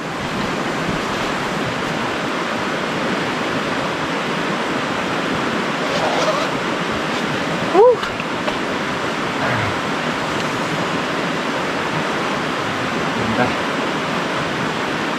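Steady broadband rush of a flowing river fills the whole stretch, constant and fairly loud, with a brief knock partway through.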